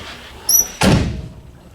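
A Chevrolet Bel Air door swings with a brief high squeak, then shuts with a single solid, close thump that rings off into quiet.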